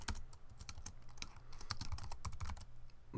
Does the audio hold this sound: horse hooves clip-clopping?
no